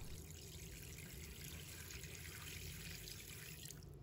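Clean water pours into a bowl of chopped chicken in a steady, soft splashing stream that continues almost to the end before stopping.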